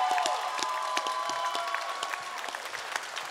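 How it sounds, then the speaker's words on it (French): Audience applause at a Quebec stage gala, sustained clapping from a large crowd with cheering and a few whistles, fairly loud and even. "On les applaudit. Faites du bruit."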